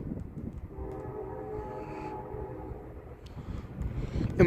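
CSX freight train passing on the Toledo Sub in Lima, Ohio: a steady rumbling roll of rail cars with a sustained tonal horn-like drone in the middle, heard from trackside at moderate loudness and swelling toward the end.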